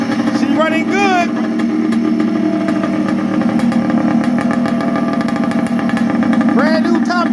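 A rebuilt Yamaha Blaster two-stroke engine with a fresh top end runs loud and steady throughout, its buzzing revs held high with a few sharp blips, while a voice talks over it.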